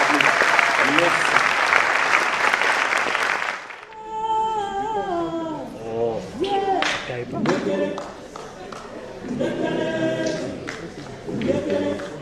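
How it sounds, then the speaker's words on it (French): Audience applause at a screening where filmmakers and actors are being honored, a dense burst of clapping for about four seconds before it cuts off and voices and other sounds take over. "Applaudissez s'il vous plaît."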